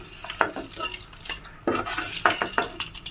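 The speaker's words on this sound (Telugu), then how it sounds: "బాయిల్ చేసి పెట్టుకున్న ఎగ్స్ వేసుకొని ఫ్రై చేసుకోవాలి లైట్గా." Boiled eggs fried lightly in oil in a pan for a village-style egg and dry fish curry, with soft sizzling and a few stirring scrapes and clinks, close and fairly quiet.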